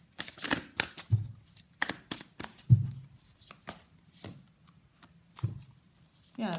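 Tarot cards are shuffled by hand in bursts of papery riffling and slapping, close and moderately loud, with short pauses between bursts.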